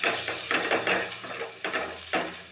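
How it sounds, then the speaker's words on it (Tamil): Sambar powder and aromatics sautéed in a pan for amaranth greens kootu: a soft sizzle runs under several scraping stirs of a utensil against the pan, heard fairly close with no talking. "லைட்டாக ஒரு 2 நிமிஷம் வதக்கி எடுத்துடலாம்"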